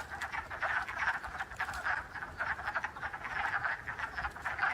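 A chorus of wood frogs calling at a spring breeding pond, dense overlapping duck-like clucking croaks in steady rapid pulses, fairly near and continuous throughout with no voices.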